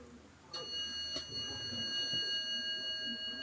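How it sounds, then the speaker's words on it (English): The arrival bell of a 1983 Westinghouse service traction elevator rings in a Marriott hotel. Two clear metallic dings come about half a second apart, and their bright tones ring on over quiet hallway hum. "Listen to that dinner bell."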